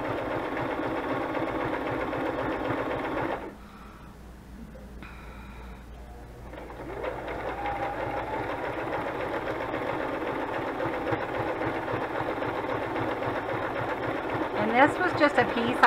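A sewing machine stitches a junk journal cover in steady runs, close and fairly loud, pausing briefly midway before whirring on again, with a voice talking over it near the end.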